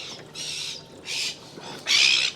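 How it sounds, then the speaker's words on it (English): Three drawn-out, harsh seagull cries ring out one after another at the shore during a very high spring tide, the last the loudest, over a quiet background. "Oh, there's seagulls. They're a little bit upset with me."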